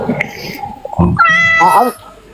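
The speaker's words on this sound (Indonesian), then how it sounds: "Ada kucing." A cat meows close by, a rising, drawn-out whining call with a shorter cry around it, heard over people talking in an indoor setting.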